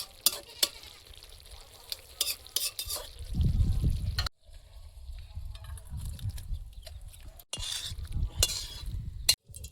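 Ridge gourd and prawn curry being stirred in a pan, with soft scraping and shifting bursts of stirring broken by short pauses, while a rooster crows and hens cluck faintly in the background.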